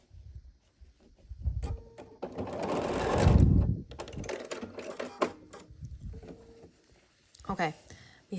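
A sewing machine stitches blue triangles onto a quilt block in short bursts and one longer run, with a soft whirring hum and clicks, while a person talks between stretches of stitching.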